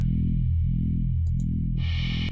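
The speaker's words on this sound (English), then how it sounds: "The sound of your shaky breaths discordant against the static now piercing your skull." Harsh electronic static effect in a horror narration, a loud distorted drone with rhythmic low pulsing swells and a burst of brighter hiss near the end, no speech.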